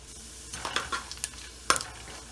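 Cumin seeds dropped into hot oil after dried chillies, crackling in a quick burst of sharp pops and sizzles with a couple of louder spits, close and fairly quiet, no speech.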